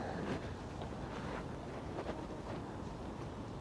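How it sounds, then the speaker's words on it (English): Wind gusts across an allotment plot on a wet, mild December day, a faint, steady rushing buffet against the microphone with no talking. "It's very windy, it's wet, but it is mild."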